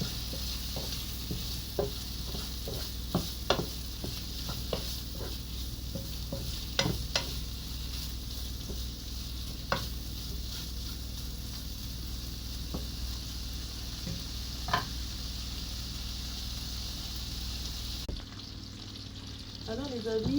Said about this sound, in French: j'ai mis la poitrine que j'ai découpée, j'ai mis dans la poêle, j'ai pas mis de matière grasse